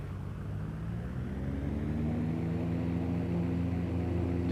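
Simulated single-engine propeller plane during its pre-takeoff run-up in the X-Plane flight simulator on a home cockpit setup, a steady droning engine tone that swells slightly louder partway through and holds, with no talking.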